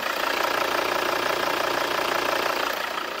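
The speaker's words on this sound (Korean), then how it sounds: "엔진 소음 먼저 들려드리면은" A first-generation Volvo XC60 D4 diesel engine idles steadily, a continuous even rumble with a faint mechanical clatter, heard close up with no voices over it.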